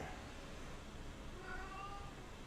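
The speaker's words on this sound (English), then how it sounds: "That was one unhappy cat." An unhappy 19-year-old cat gives a short, faint, drawn-out meow partway through, somewhat distant beneath a steady background hum.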